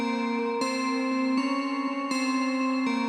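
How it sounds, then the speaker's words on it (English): A bright bell-like synth rings on top of a piano melody in a music track, its sustained chiming tones struck at a steady pace with sharp attacks. It plays alone and clearly in front. "I add this sort of bell sound on top of it,"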